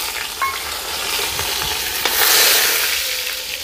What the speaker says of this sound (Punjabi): ਕੜੀ ਪੱਤਾ ਧੋਇਆ ਹੋਇਆ ਸੀਗਾ ਇਸ ਕਰਕੇ ਛਿੱਟੇ ਪੈ ਗਏ